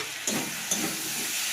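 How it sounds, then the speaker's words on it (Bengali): Spice paste is stir-fried with pointed gourd in a pan, giving a steady close sizzle with two brief sharper hissing bursts from stirring. "এখন আমি স্বাদ মতো লবণ অ্যাড করে দেবো আর পেস্ট করে রাখা মশলাটা এর সঙ্গে অ্যাড করে ভালো করে কষিয়ে নেব"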